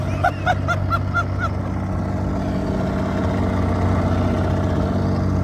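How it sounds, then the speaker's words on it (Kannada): A steady low engine drone runs throughout, like a boat motor idling along, with a few brief tonal chirps near the start. "ಆಹಾ, ಬೋಟ್ ಓಡಿಸೋ ಸುಖ ಮಜಾ"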